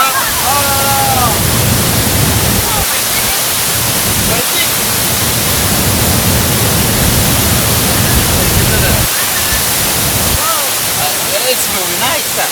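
A waterfall cascade in Mauritius roars as a constant broad rush of falling water, loud and close, while people talk and exclaim over it.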